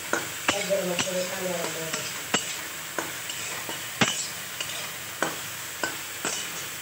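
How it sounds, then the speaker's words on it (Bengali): Soybeans frying in a pan, a quiet sizzle broken by regular sharp taps and scrapes of a spatula against the pan, close by, with a faint voice briefly present. "সয়াবিন ভাজিটা করে নিম"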